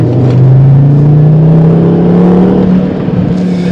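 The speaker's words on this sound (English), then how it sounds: "So you can hear the wastegate, you can hear the valve popping" A turbocharged Volvo C30 engine produces a loud, steady mechanical drone whose pitch climbs slowly as it revs. A faint whooshing flutter sits on top, with a couple of soft puffs near the start and end.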